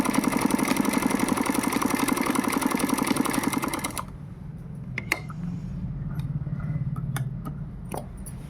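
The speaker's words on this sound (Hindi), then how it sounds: "यहाँ पर भी इस तरह से पक्की कर लेंगे, डबल सिलाई लगा कर।" A sewing machine runs in a fast, steady mechanical rattle while double-stitching a seam on a circle frock, then stops abruptly, leaving faint room noise with a few small clicks and taps.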